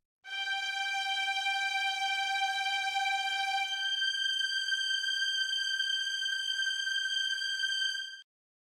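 A BandLab string orchestra instrument track holds a sustained G, then moves up to a G an octave higher, a smooth continuous tone at steady volume lasting about eight seconds, with no voices.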